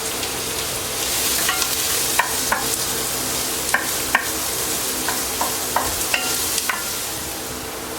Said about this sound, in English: we got our jalapenos and our onions been in here sauteing for about 3 to 5 minutes